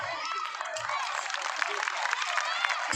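Audience at a Marathi school theme event applauding steadily, a dense wash of many hands clapping throughout with faint crowd noise underneath.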